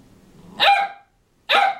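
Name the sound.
puppy barking loudly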